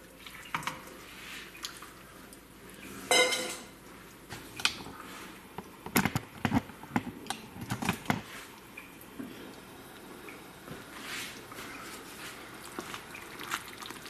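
Calamari is stirred in a pan, heard as irregular clinks, scrapes and wet squelching taps that cluster in the middle before trailing off quietly.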